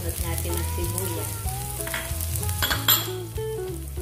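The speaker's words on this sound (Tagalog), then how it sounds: "Pagkatapos, ilagay na natin yung bawang." Garlic frying in a hot pan for chicken kare-kare, a steady loud sizzle with occasional stirring scrapes and clinks running throughout.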